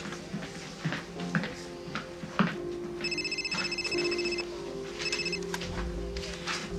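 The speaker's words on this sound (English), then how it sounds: "Detective Snyder's phone" A telephone rings in an office setting, repeated electronic trilling bursts in two rings over faint background room noise and movement.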